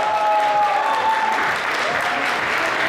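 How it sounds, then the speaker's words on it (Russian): Loud, sustained applause from an audience at a youth volunteer forum as an award winner is honoured, dense clapping throughout with a faint tone and murmurs mixed in. "его очень громко аплодируют"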